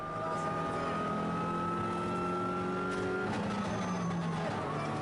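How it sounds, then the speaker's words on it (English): Subaru Impreza Evo 9 rally car on a gravel stage of the Cyprus Rally, its engine droning steadily with shifting pitch and a gear change partway through, heard continuously at moderate distance. "This is Wojtek Steiff in his Subaru Impreza Evo 9"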